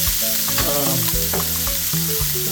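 Broccoli hits a hot frying pan with shrimp, setting off a loud, dense sizzle with clattering stirs and scrapes layered over the constant frying hiss.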